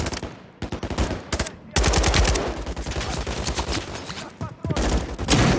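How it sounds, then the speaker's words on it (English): Turret machine gun fire in Call of Duty MW3, loud sustained rapid bursts that hammer almost without pause, close and dense, with short gaps between volleys. "Turret's pinning us, Captain!"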